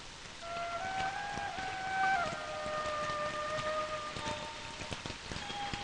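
Steady rain falls, a dense hiss of drops on surfaces, with faint tonal sounds drifting through the background.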